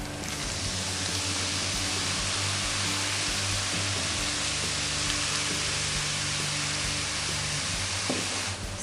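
White wine vinegar poured onto baking soda in a jar sets off a steady, dense fizzing hiss, like sizzling rain, that holds almost unchanged throughout with a faint low hum underneath.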